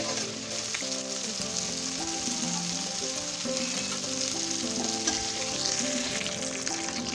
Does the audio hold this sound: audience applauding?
no